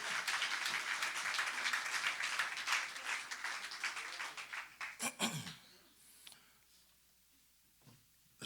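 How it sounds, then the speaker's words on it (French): Broadband applause from a church congregation, steady and fairly loud for about five seconds, then tapering off into quieter room noise with a few stray claps. "On applaudit le Seigneur."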